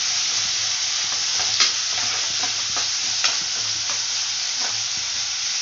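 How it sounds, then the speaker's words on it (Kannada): Onions frying in oil in a pan, a steady loud sizzle throughout with a few soft stirring clicks and scrapes, no voices. "ಈರುಳ್ಳಿ, ಇದೆಲ್ಲ ಎಣ್ಣೆನಲ್ಲಿ ಚೆಂದಾಗಿ ಫ್ರೈ ಆಗಲಿ."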